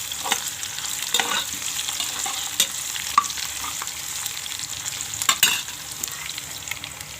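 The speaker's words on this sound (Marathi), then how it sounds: "कांदा आता भाजत आला आहे." Onions frying in a pan for matar pulao: a continuous close sizzle with repeated stirring scrapes and utensil clicks for about seven seconds, no talking.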